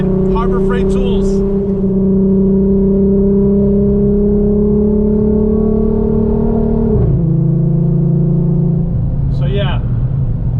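A VR6-swapped Audi RS3 with an open dump exhaust drones loudly and steadily close by, its pitch holding then dropping as it shifts, with a brief rasp at the end and a voice over it.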